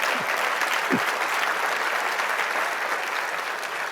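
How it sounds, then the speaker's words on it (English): Audience clapping during an opening keynote at the Bigger Together Conference, a sustained even wash of applause that holds steady throughout. "Oh yeah, you can clap."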